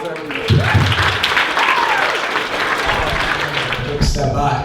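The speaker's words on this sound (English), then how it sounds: "big round of applause for lads, everyone." Audience applause in a room after a talk, a loud, steady wash of clapping filling the whole stretch with some voices mixed in.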